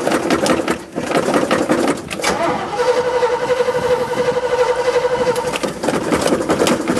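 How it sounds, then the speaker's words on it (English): An engine cranks over on a cold start, a close, steady churning of the starter with a tonal whir running through the middle stretch. "I'm going to do a little cold start."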